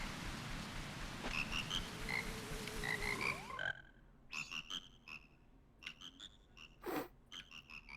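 Frogs croak repeatedly in the video game Zelda: Majora's Mask, a string of close, clear croaks that follows bright chiming game tones.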